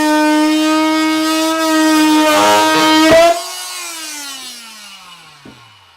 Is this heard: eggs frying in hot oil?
no